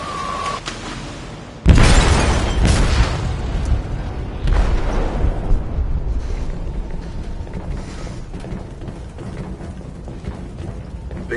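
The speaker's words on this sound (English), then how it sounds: "They detonated an explosive in the hold." A loud blast inside a ship's hold in the video game Detroit Become Human: a sudden heavy boom followed by rumbling debris and a second surge, then a long roaring tail.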